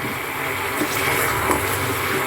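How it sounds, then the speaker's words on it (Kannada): Fresh butter heating in a pan into ghee, its water sizzling off in a steady, close, even hiss with no voices. "ಈ ನೀರು ಸೌಂಡ್ ಇದು ಇದು ನೀರು ಸೌಂಡ್ ಎಲ್ಲ ಮುಗಿಯೋವರೆಗೂ ಕಾಯಿಸ್ಕೊಳ್ಬೇಕು"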